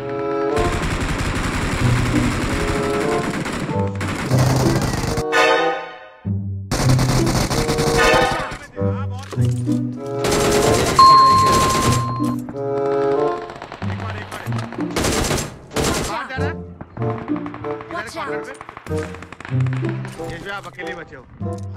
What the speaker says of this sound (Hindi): गन फाइट हो गई